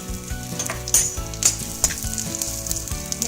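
Onion vadagam, fennel seeds and curry leaves sizzling and crackling in hot oil, a loud continuous fry with sharp pops and spatters, close up with no talking.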